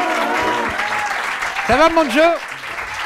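A studio audience applauds a guest arriving for a TV interview, the clapping running steadily underneath while a voice speaks over it close to the microphone.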